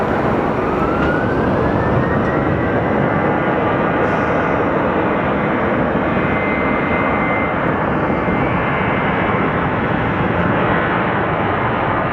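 Airplane passing at Sky Harbor Airport, a loud, continuous jet engine roar that holds steady throughout, near and broad, with no talking over it.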